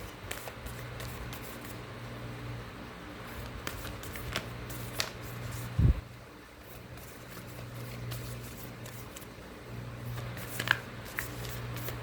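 Oracle cards being shuffled by hand: soft, close riffling and flicking of card stock in repeated bursts, quiet and continuous, with one louder thump midway.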